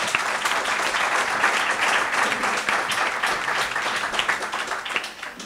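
A large audience at a 2019 political gathering applauds loudly and steadily, a thick continuous roar of clapping that holds for the whole stretch.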